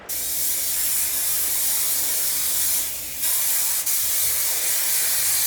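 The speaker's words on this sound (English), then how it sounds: "Still gonna use my aerogel, shake it, and spray it in all over." A steady, continuous aerosol hiss of hair spray gel sprays for several seconds, with a brief dip partway through before it resumes, close and loud.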